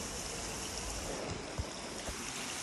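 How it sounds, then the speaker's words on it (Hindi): Mountain water pouring out near a hidden waterfall at Baltal, Sonamarg, a steady dense rushing roar with no pauses, close and fairly loud. "पहाड़ से पानी निकल रहा है"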